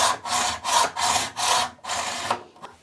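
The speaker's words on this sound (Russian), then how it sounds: "Пилим угол 45 градусов в другую сторону." A hacksaw for metal cuts a 45-degree corner on a bath panel border in about five even back-and-forth strokes, a close, loud rasping rhythm that ends with a few lighter scrapes.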